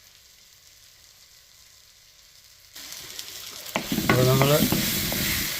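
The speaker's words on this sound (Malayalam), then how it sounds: "സവാള, തക്കാളി, പച്ചമുളക്, ഇഞ്ചി, വെളുത്തുള്ളി, കരിയാപ്പില എല്ലാം കൂടെ വഴറ്റുകയാണ്" Onion, tomato, green chili, ginger, garlic and curry leaves sauté for pepper chicken, starting as a quiet hum, then a sudden close sizzle that swells louder with stirring while a person talks over it briefly.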